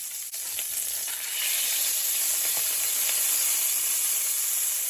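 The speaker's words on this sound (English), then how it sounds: "I'm adding my butter here to my pot" Butter sizzles steadily in a pot for garlic butter mushrooms, a dense continuous hiss that swells slightly after the first second and stays loud and close throughout, with no talking.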